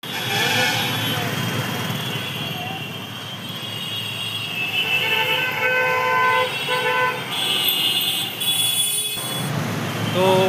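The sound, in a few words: train running near Howrah station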